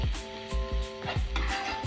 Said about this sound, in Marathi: मस्त तेल सुटेपर्यंत छान परतून घ्यायचंय